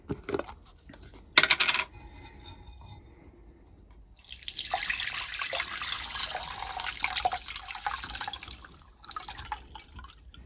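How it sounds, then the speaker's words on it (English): A brief splash, then a steady stream of blackberry vinegar pouring and trickling through a sieve for several seconds, fairly close, with no talking. "So now I'm going to put it through a sieve."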